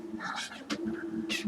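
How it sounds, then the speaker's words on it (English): A pet cat gives a few soft, distant meows over quiet room noise, short separate calls spread across about a second and a half. "My cat, ladies and gentlemen."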